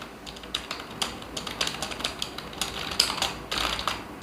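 Rapid typing on the keyboard attached to a Realme Pad tablet, a steady run of light plastic key clicks with a few louder taps, close up and with no voices.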